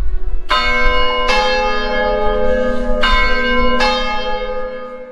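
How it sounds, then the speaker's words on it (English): Church bells of the Cathedral of Cadiz in Spain ring loud and close, four heavy strikes spaced about a second apart, each leaving a long shimmering hum that overlaps the next. "discovering, well, the bells are still in use today"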